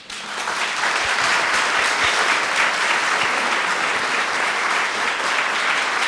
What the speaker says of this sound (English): Huge round of applause for Deborah Husbands for organising this panel.